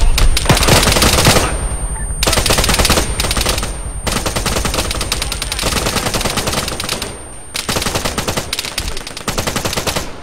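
Machine gun fire in the ARMA 3 military shooter, long loud sustained bursts of rapid automatic shots close by, broken by brief pauses between volleys.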